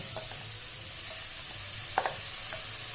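Chopped palak spinach sautéed in a pan for an egg stir-fry sizzles steadily, with a few light clicks of a spoon stirring against the pan.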